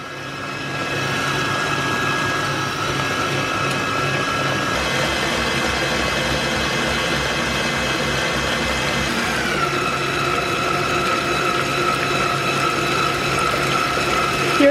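An electric mixer whips cream into butter, its steady, loud whirring motor running continuously and shifting pitch twice as the speed changes.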